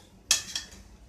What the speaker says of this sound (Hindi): ये फ्राई पैन में अब हम थोड़ा सा तेल डाल के